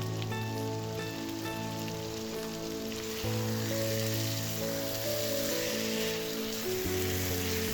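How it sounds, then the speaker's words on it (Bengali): Potatoes and chicken frying together in a pan, a continuous dense sizzle with a steady hum underneath, loud and close. "আলুটাও ভালো করে কষিয়ে নেব।"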